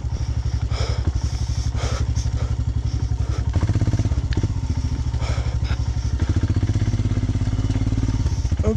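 A motorcycle engine labors loudly and continuously up a snowy mountain track between Tawang and Madhuri Lake, revving unevenly with the clutch half-slipping, a dense pulsing drone with occasional clatter and thumps.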